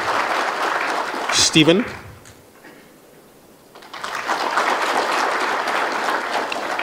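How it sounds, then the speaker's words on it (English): Audience at a public lecture in honour of the late Prof Francis Mwega applauding as family members stand. A brief clap and a spoken name come first, then a lull, then sustained close applause to the end. "Round of applause, please."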